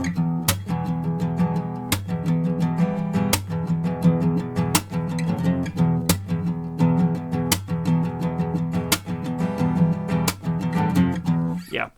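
Guitar strumming four rounds of the chords to a song in tempo, steady repeated strokes with sharp accented hits at a regular pulse, close and alone.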